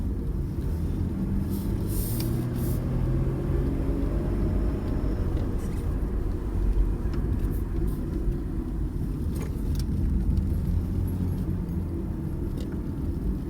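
A car cruising smoothly with a soft, quiet ride, giving a steady low rumble of engine and road noise inside the cabin that carries on evenly throughout, with no talk.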